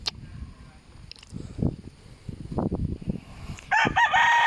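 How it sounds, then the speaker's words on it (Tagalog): A red rooster crows at a poultry farm among many chickens, a clear bright crow near the end after scattered clucks and rustling, with no talk. "Puro manok tong nandito."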